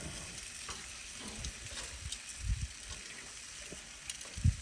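Chicken thigh skewers sizzle on a grill as they are flipped, a steady hiss of frying with a couple of soft low thumps from the turning.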